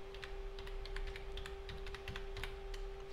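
An IP address is entered on a computer keyboard, rapid irregular key clicks at close range, steady and fairly quiet, with no voices.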